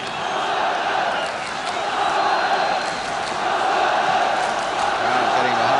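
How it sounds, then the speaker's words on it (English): A football crowd at a 1976–77 Tottenham Hotspur versus Everton match roars steadily in support of Tottenham, a dense, continuous wall of stadium cheering and chanting heard from a distance. "Crowd getting behind Tottenham really now."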